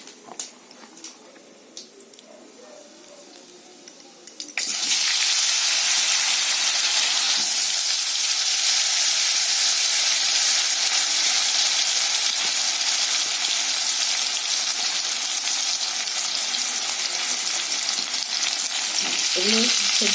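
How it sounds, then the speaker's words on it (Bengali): Cut green banana, potato and tomato hit hot oil with white cumin seeds, and after a few seconds of quiet a loud, steady sizzle and hiss of frying starts and carries on to the end. "এখানে যে কাঁচকলা আলু আর টমেটো কেটে নিয়েছি, এটা আমি তেলের উপরে দিয়ে দেবো।"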